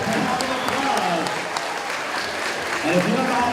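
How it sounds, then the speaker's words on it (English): An audience at a school summer show claps in sustained, dense applause, steady and fairly close throughout. "Give 'em a big applause."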